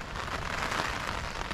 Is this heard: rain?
yes